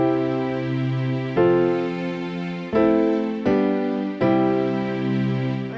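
Sustained harmonic chords ring out, changing to new chords at intervals, with a pair of chords splitting a bar evenly in a demonstration of the Nashville Number System; played clearly with no talking.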